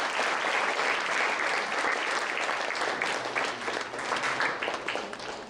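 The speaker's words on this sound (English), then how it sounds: "Please, let's have a huge round of applause for all the dignitaries." A large audience at a Science Day celebration applauds the dignitaries, a dense, sustained wash of clapping that holds steady for several seconds and eases slightly toward the end.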